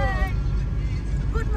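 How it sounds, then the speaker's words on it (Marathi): A car cruising on a road trip to Mahabaleshwar, its steady low road and engine rumble running throughout while people talk over it inside the vehicle. "दादा गाडी चालवत आहे"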